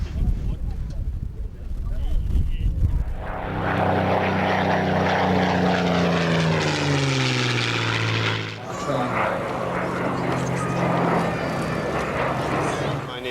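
An aircraft engine roars past during a flying display pass at East Fortune's Festival of Flight, a loud propeller drone whose pitch sweeps down as it goes by, with a commentator talking over it.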